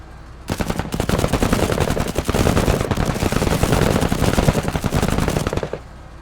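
Sustained rapid automatic gunfire in a video game, loud and continuous for several seconds with no talk, a dense stream of shots that stops abruptly.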